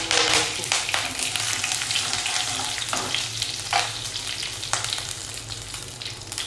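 Whole red chilies and curry leaves sizzle in hot oil with urad dal for a Kutchi-style tempered khichdi. A steady, loud crackling fry runs throughout with occasional sharper pops and no voices.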